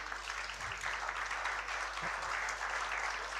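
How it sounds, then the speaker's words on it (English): Applause from a conference audience, a steady patter of clapping at moderate level that holds evenly throughout, with no voices over it. "You got lots of applause,"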